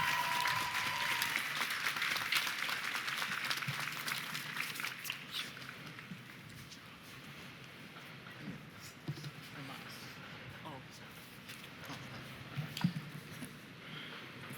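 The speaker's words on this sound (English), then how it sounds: "Give yourself a round of applause." A graduating class at an honors convocation ceremony applauds in a sustained, dense round of clapping that fills the hall and gradually eases.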